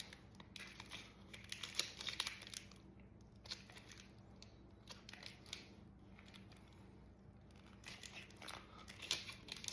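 Bat grip tape is peeled back slowly while a baseball bat is being regripped, giving close, faint crinkly tearing and sticky rustling in short bursts separated by quiet gaps.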